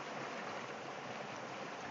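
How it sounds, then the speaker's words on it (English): A forest river flows steadily in a continuous, even broadband rush of water, fairly soft and unbroken, with no voices present. "that was the river where we plunged in the morning for a cold shower right there"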